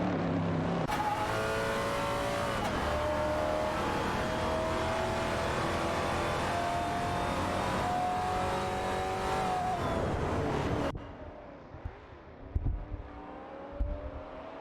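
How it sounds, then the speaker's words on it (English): Race cars roar past at high revs while overtaking in a racing video game, a loud, sustained engine drone with rising pitch that cuts off abruptly into quieter track noise near the end. "Aminisan is now in P3 after an overtaking maneuver on Captain Potato."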